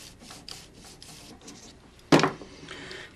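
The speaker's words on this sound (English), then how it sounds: "You also need to lightly sand across the top edge here. To remove any excess solder." Brief sandpaper rubbing across the top edge of a metal bracelet to clear excess solder, a single close, loud rasping stroke after quieter light scraping.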